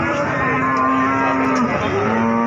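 Cattle moo in long, drawn-out calls at a busy cattle market in Jaken, Pati, where Limousin young stock are traded, several animals overlapping and close amid steady crowd noise.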